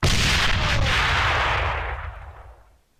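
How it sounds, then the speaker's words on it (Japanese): A hand grenade goes off in the shooter game AVA, one loud, close blast with a broad roar that lingers and fades over about two seconds. "手榴弾投擲。"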